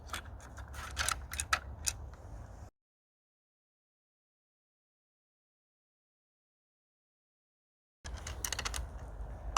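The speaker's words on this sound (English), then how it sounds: "let's load all 8 bolts here" Plastic bolts clicking into a Cobra Siege 8-bolt magazine, a burst of sharp close clicks and rattles for under three seconds, then silence before more clicking returns near the end.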